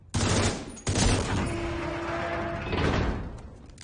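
Gunfire in the video game Division 2: a couple of sharp sudden bursts, then sustained loud noisy crackle with a faint tonal hum running underneath.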